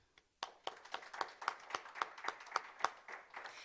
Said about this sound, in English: So let's give BEMA a round of applause.